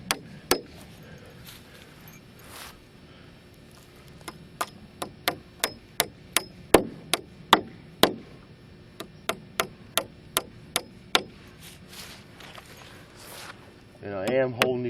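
A hammer drives nails into the joists of an 8x12 A-frame shed in a quick run of sharp, ringing strikes, roughly two dozen evenly spaced blows, with a voice briefly talking at the end.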